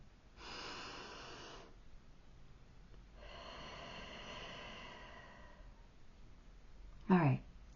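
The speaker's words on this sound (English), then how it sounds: "take a deep breath with me" Two long, deep breaths, an inhale and then a slow exhale, drawn close and softly by a single person in a quiet room, followed by a brief sharp snort-like sound at the end.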